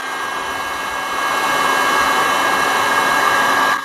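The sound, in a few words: heat gun shrinking heat shrink tubing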